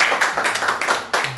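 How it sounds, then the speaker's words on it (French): A church audience claps in a quick, even patter of close, dry hand claps for a little over a second, with a louder final clap near the end. "applaudissons pour elle"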